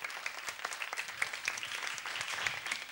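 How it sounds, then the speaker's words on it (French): Children clapping hard together at a concert, a dense, steady patter of applause that fills the whole stretch without any talking. "On applaudit très très fort."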